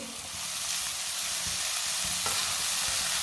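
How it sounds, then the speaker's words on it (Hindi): Finely chopped cabbage and capsicum frying in a pan for crispy spicy patties, a steady loud sizzle with stirring scrapes and no voices. "ये दोनों चीज़ों को 2 मिनट के लिए पका लेंगे।"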